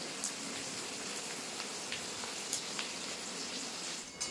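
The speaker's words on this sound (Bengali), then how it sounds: "এখন আমি ফুচকাগুলো ভেজে নেব, দিয়ে এভাবে নাড়বো।" Fuchka (puri) shells frying in hot oil: a steady, dense sizzling hiss with scattered small pops and crackles, close up and without talk.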